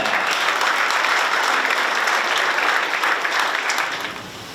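An audience gives loud, sustained, dense applause to open the Doosan Bears 41st anniversary ceremony at Jamsil, the clapping fading toward the end.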